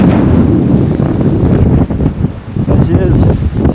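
Strong gusty wind on a mountaintop roars and buffets the microphone continuously, loud and close, with rumbling low noise throughout.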